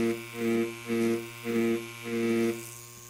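Tattoo machine buzzing during grey wash shading, a steady electric hum with a pronounced drone that pulses louder and softer in four even surges as the needle works, close and with no talk.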